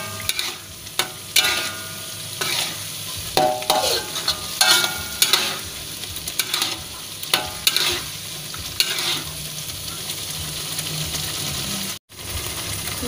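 Sambal teri pete fries in a pan while being stirred, with repeated scraping strokes over a constant sizzle that settles into a steady hiss toward the end.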